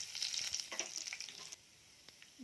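Tempering seeds frying in hot oil for gongura pickle, a continuous bright crackling sizzle with stirring scrapes, close and fairly quiet, fading slightly toward the end.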